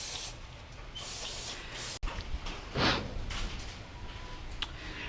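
Short bursts of aerosol cleaner spray hiss near the mic onto a Honda/Acura J-series V6 engine block, broken by a sharp click and a louder burst midway.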